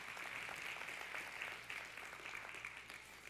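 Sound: church congregation applause

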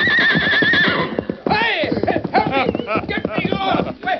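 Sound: horse neighing and hooves in radio drama

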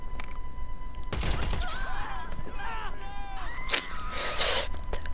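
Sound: armor-piercing pistol firing in the video game GTA 5

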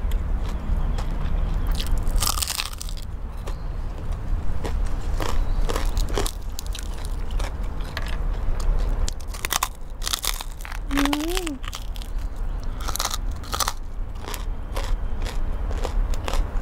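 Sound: biting and chewing crispy fried pork leg

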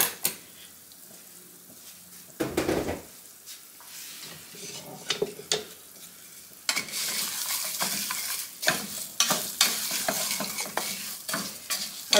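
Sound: rice toasting in a pan for Spanish rice

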